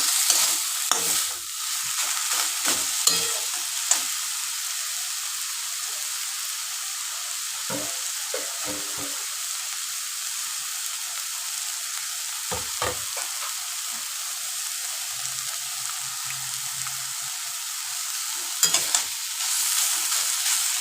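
Banana stem fries in a pan while being stirred, a loud continuous sizzle broken by scraping strokes of the spatula, close by with no voices.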